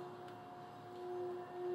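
A Tibetan singing bowl rings with a steady, sustained tone that hums on evenly and softly, swelling slightly toward the end, heard alone.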